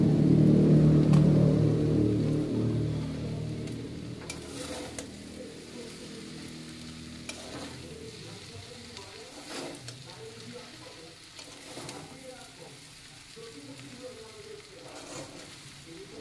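Ghee sizzles in a frying pan with a loud, crackling hiss up close at first, then fades to a quieter, uneven frying crackle.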